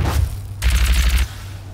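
Gunfire in the video game DOOM: a rapid burst of heavy, booming shots with a low thudding rumble, close and loud, lasting about half a second after a brief lead-in.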